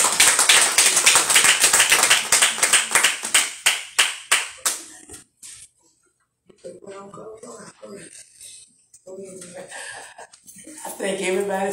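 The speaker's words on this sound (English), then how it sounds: "let's give God a hand clap of praise" Congregation hand clapping in praise at a church service: a few seconds of brisk, rhythmic clapping that thins and fades out, followed by a voice talking.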